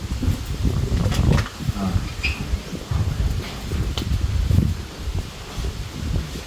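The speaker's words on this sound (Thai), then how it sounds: "โอ้ลมก็แรง" Strong wind blows outdoors, a steady rough rushing with gusts and rustling buffeting the microphone throughout.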